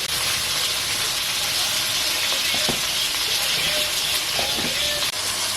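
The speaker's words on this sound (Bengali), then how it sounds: "ভেন্ডিগুলো ভাজছি, একটু নুন দিয়ে ভেজে নিলে বেশ ভালো লাগবে" Okra frying in oil with salt in a village kitchen gives a steady, close hiss that runs unbroken through the whole stretch, with a few faint clicks over it.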